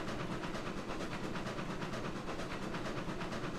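A Class 48 steam locomotive runs at full steam in the game Railroads Online, giving a continuous, fast rhythmic chuffing and rumble with hiss, steady and loud throughout with no talking.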